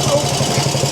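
A 1950 Clifford A3 walk-behind rotary cultivator with a 6hp JAP engine runs close by, giving a steady, low, throbbing chug at low revs.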